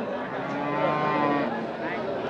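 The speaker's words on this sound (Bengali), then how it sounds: "এখানে বেশ কিছু গাবি গরু দেখছি আমরা।" Cows moo repeatedly at a rural cattle market where thin dairy cows are being sold, the lowing steady and fairly close for the whole stretch amid general crowd murmur.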